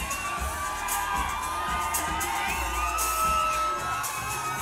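Loud, sustained crowd roar with cheering, whoops and shouts filling the venue at a women's Muay Thai fight night, steady and dense throughout with occasional sharper yells rising above.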